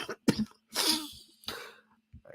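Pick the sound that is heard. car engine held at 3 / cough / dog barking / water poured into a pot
cough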